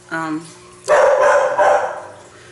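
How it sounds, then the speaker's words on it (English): Several dogs bark together in a loud, overlapping burst after a brief opening yelp, the barking carrying on for a couple of seconds indoors. "you guys are getting to listen to a chorus of my dogs"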